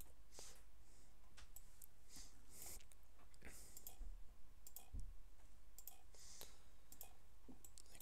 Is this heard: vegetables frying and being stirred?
no